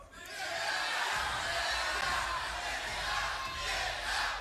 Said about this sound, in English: Can we get a get out chant from the crowd?